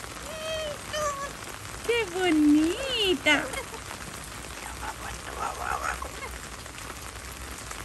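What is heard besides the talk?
rain falling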